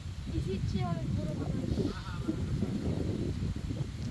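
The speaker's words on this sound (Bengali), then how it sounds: "ওই দেখ কতগুলো ছাগল" Goats bleat in a few short wavering calls over a steady outdoor rumble and wind, with background chatter.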